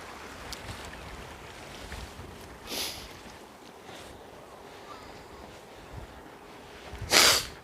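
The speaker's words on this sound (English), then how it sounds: "Sorry, I had to do one sniffle." A person sniffles sharply near the microphone outdoors on Viðey Island in winter, one loud sniff at the end after a softer breath earlier, over a steady rush of wind.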